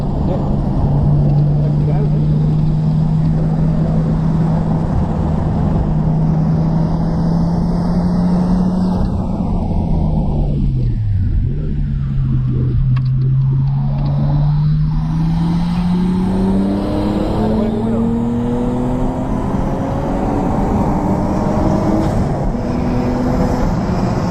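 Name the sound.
car engine driving hard through a curve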